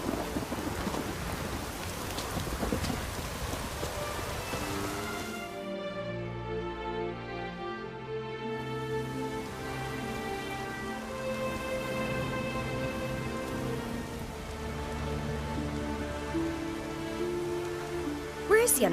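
A heavy rainstorm in the Witcher 3 game world: dense rain hissing and rumbling thunder rolling continuously at close range for the whole stretch, with deep tonal booms swelling midway and no talking.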